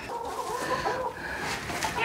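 Chickens cluck softly inside a barn at night near their coop, a few scattered calls over a low, steady background.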